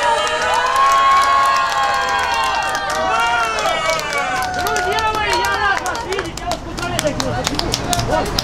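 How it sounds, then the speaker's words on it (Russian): Wedding banquet guests cheer, whoop and clap loudly in a lively crowd, with excited shouts and chatter layered over the applause throughout. "Аплодисменты!"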